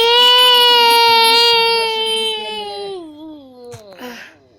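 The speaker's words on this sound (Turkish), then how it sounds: "Bir bebek sesi geldi." A baby cries loudly in one sustained wailing cry that trails off into softer whimpers and sobs, close to the microphone with no talking.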